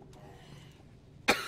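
A single short, sharp cough close to the microphone near the end, following a quiet stretch of faint background noise.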